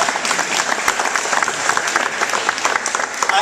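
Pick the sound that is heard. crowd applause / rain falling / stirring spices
crowd applause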